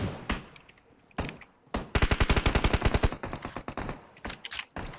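Gunfire in PUBG Mobile played on an emulator: scattered single shots, then a long rapid automatic burst followed by more short bursts, loud and close with no talking over it.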